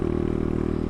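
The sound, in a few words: Kayo K2 230 motorcycle muffler exhaust bark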